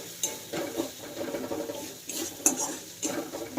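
Ghugni being stirred in a pot, giving repeated soft scraping and clinking strokes of a utensil against metal with a faint sizzle underneath, close and steady with no talking.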